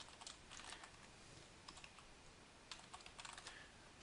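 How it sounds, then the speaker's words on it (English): A password being entered on a computer keyboard: quiet, irregular bursts of key clicks in short runs with brief pauses, heard close but faint and alone. "So I'll go ahead and put in a password here."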